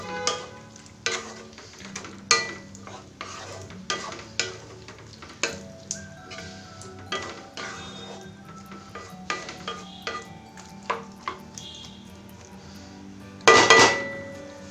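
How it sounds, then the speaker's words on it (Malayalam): Cucumber pachadi being stirred in a pan with a spoon: a steady run of scraping, clinking strokes about once a second, close and fairly loud, ending with a brief burst of sizzle. "ഇളക്കി കൊടുക്കാം."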